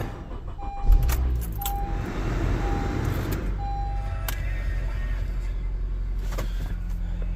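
A 2015 Honda CR-V with an AWD CVT is started after a transmission fluid and filter change: keys jangle up close, then the engine catches and settles into a steady, loud idle with no talking.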